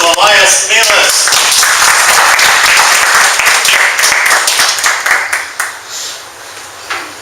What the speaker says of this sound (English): round of applause to Elias, Melas